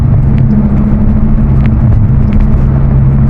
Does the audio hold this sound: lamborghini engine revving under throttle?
yes